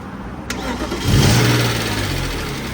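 A BMW E36 with a cam sensor fault cranks and fires up after a short click, then settles into a steady, loud idle close by.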